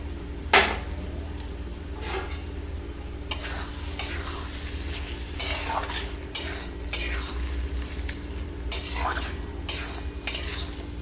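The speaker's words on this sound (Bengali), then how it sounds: "ধনিয়া পাতাটা দিয়ে আমি আর একটু নাড়াচাড়া করে নেব" Spoon stirs and scrapes through a pan of bottle gourd curry made with salt, turmeric, whole cumin and bay leaf, with fresh coriander leaves just added; sharp irregular scrapes stand over a soft steady sizzle, no voices.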